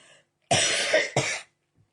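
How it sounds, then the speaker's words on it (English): Two rough coughs close to the mic, the first longer and the second a short follow-up, with quiet before and after. "Sorry, I've got the coughs at the minute."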